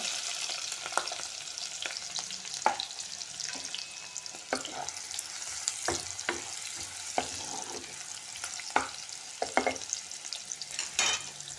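Onion and green chilli pieces fry with curry leaves in a pan for a Malvani-style surmai fish curry, giving a steady sizzle broken by repeated sharp scrapes and clinks of stirring.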